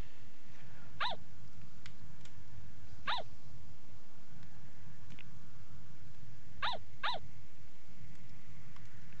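A small dog in Yomawari: Midnight Shadows yips four times, short high barks spaced irregularly with the last two close together, over a steady quiet ambient hum.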